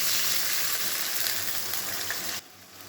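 Ground cumin, coriander and turmeric tipped into hot oil over fried potatoes for a banana-flower curry, giving a loud, steady hiss and crackle close by that drops off sharply near the end.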